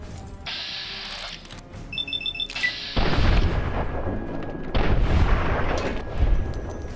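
Rocket explosions in Fallout A Tale of Two Wastelands land as heavy booms. Beeps and tones come first, then two big blasts arrive a couple of seconds apart, loud and close.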